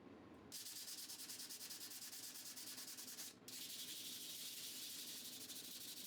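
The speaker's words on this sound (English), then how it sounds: "After some light sanding and an oil finish" Close, steady scratchy rubbing as a wooden tray cut on a budget CNC router gets light sanding by hand. Brisk back-and-forth strokes continue throughout, with one brief pause, and no talking.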